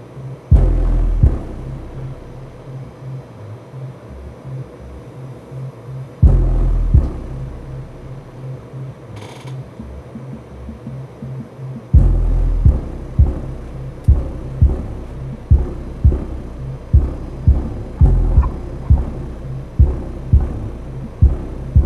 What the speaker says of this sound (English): Hear the drywall rattling in the ceiling.